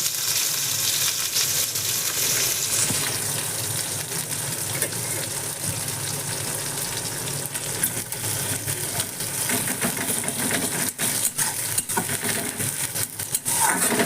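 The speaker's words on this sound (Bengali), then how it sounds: "পেঁয়াজগুলো যতক্ষণ না পর্যন্ত লাল লাল হয়ে যাচ্ছে ততক্ষণ পর্যন্ত আমি পেঁয়াজগুলোকে ভাজবো" Onions fry in a pan with a continuous bright hiss and sizzle, joined later by scattered clinks and scrapes of stirring against the metal.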